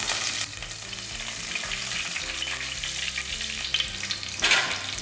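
Cumin, curry leaves and crushed garlic fry in oil for a dried-fish curry, a loud, steady crackling sizzle with a sharper burst of spatter near the end.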